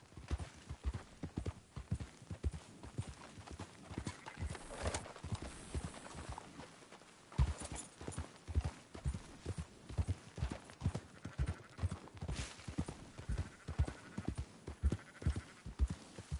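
Horse hooves clip-clop steadily while riding in the video game Red Dead Redemption 2, a brisk rhythmic pattern of close, moderately loud hoofbeats continuing throughout over a faint game backdrop.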